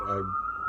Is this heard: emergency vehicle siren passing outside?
yes